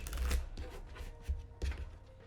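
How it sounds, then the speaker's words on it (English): A deck of cards for the Marvel Champions card game is shuffled by hand: a few quick riffling bursts and taps close by, alone without talk. "One more shuffle"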